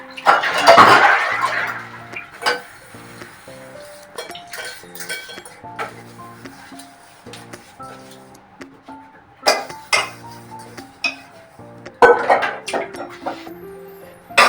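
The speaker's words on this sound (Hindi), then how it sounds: "अब मैं बर्तन धो लूंगी" Dishes and utensils being washed by hand in a home kitchen: close clinks of steel pots and cutlery, scraping and splashing water in irregular bursts, with no talking.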